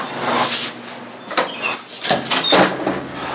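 A police station security door swings shut in the East Chicago Police Department, with squeaky, whistling scrapes and a broad rumble of movement lasting a few seconds at close range.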